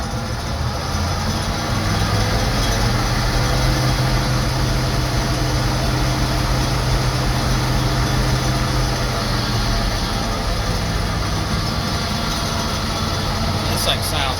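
Gleaner M2 combine engine held at full throttle, a loud, steady, rough drone with strong low rumble, continuous and unbroken throughout, with a brief rattle near the end.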